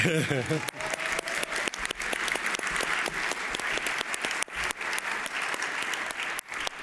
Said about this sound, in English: ask you all to give a very big applause